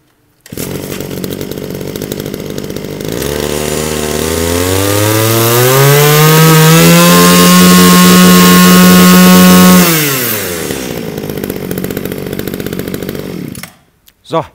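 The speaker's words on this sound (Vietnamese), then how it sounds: "Tiếng máy nổ rất chất lượng" Japanese H9 brush cutter with a 33 mm bore, a small two-stroke engine idling, then revving up to a loud high whine for several seconds before dropping back to idle and cutting off, close to the mic.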